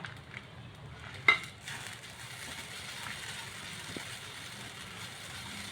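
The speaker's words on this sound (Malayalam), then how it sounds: "ഇപ്പം തേങ്ങ വെള്ളമൊക്കെ പറ്റി ചെറുതായിട്ടൊന്ന് മൊരിഞ്ഞ് വരുന്നുണ്ട്" Grated coconut with dried chillies and shallots dry-roasting in a pan for a roasted-coconut breadfruit curry gives a steady, soft crackling hiss, with one brief clink near the start and no talking.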